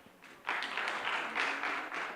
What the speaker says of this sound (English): Let's clap for Mbarara University